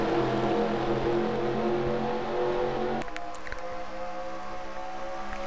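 Race cars in a simulated All-Star stock car race, a steady layered engine drone from several cars at once that shifts abruptly partway through, with a few faint clicks on top.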